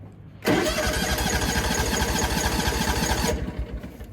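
A John Deere X340 riding mower with a stalling problem cranks, then catches into a loud, steady running engine for about three seconds before the sound cuts back down to a lower level.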